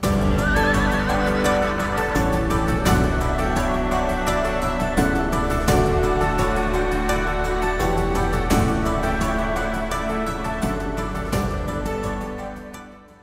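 A horse neighs and whinnies amid a dense, continuous wash of sound that holds steady for over ten seconds before fading out at the end.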